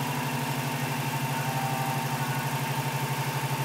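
A rebuilt Toyota 22RE engine with new injectors idles steadily, a close, even, rhythmic low thrum with a constant mechanical hum and no talk.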